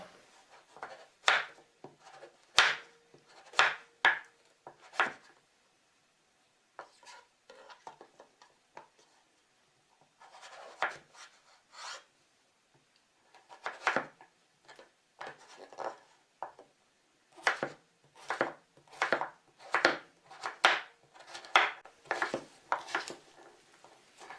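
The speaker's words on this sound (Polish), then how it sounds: "Cukinię pokroję w grubą kostkę." Knife chopping zucchini into thick cubes, likely on a board: a run of sharp, close chops in quick bursts separated by short pauses, clear and alone with no talking.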